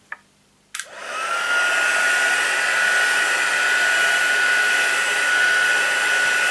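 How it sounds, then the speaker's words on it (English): A Stampin' Up craft heat tool on full heat switches on with a click, then blows a steady, loud, whirring rush of air that holds constant throughout. "assuming that you don't have a Stampin' Up heat tool yet, I'm going to put this on full heat"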